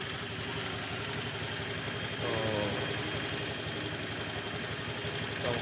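A Honda Click 125 scooter engine idles steadily after throttle body cleaning and valve clearance adjustment, a smooth, even running hum heard close up with no talking over it.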